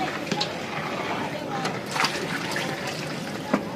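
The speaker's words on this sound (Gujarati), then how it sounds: "જરૂરિયાત પ્રમાણે આપણે એમાં પાણી એડ કરીશું" Water being added to a sev masala curry cooked for a wedding: a steady, close pouring and splashing of liquid runs throughout, with a few sharper splashes and a voice talking over it.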